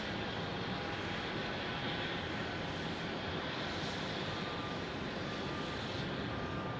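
A passenger airplane landing at Phoenix Sky Harbor Airport after floating long over the runway, heard as a steady, broad engine roar that stays loud and unbroken throughout, with no voices.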